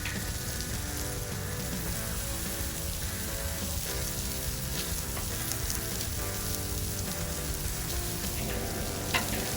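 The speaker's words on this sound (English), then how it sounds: "Cook the asparagus on a medium hot grill, leaving just a little space between the bundles." Bundles of bacon-wrapped asparagus sizzle and crackle steadily on a medium-hot grill, a continuous close frying hiss with small pops and no talking.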